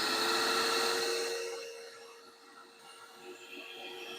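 A shop vacuum runs with a loud, steady whining roar that winds down over a couple of seconds, then settles into a quieter hum.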